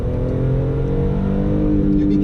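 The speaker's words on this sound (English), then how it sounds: "Another heel toe downshift." A BMW E46 M3 with a manual gearbox blips its engine during a heel-toe downshift, heard as a steady, loud engine hum and rev from inside the car, with a voice talking over it.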